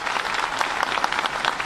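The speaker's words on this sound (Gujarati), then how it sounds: "ભૂપેન્દ્રભાઈ પટેલ માટે ખૂબ તાળીઓ આજના અવસર વ્યક્ત કરીએ" Brief burst of applause for Gujarat Chief Minister Bhupendra Patel at an official event: many hands clapping steadily and fairly loudly throughout, a close, dense crowd sound with no talk.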